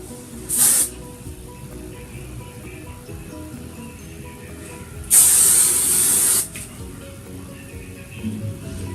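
Hairspray hisses onto hair while a Pachuca crown hairstyle is styled: one short spray burst, then a longer sustained spray lasting over a second, both close and crisp over faint background sound.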